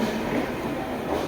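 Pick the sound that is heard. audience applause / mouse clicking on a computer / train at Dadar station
train at Dadar station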